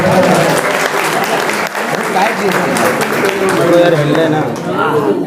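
Loud, sustained applause from a crowd welcoming the teachers at a Teachers' Day celebration, steady and dense throughout with no pauses.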